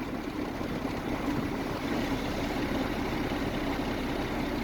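A 2005 Sterling crane truck's engine runs at a steady idle, a close, even low rumble that holds unchanged throughout with no talking.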